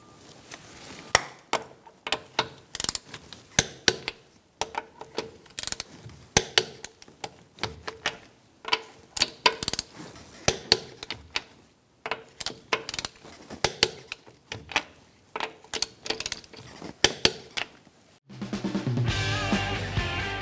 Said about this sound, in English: We're going to torque our wheel to 85 foot-pounds in a star-like pattern.